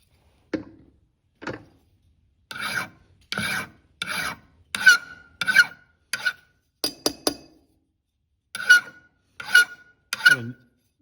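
A hand file rasps against a cast metal tomahawk head in short, separate strokes, about a dozen scrapes with brief pauses between them, close and clear.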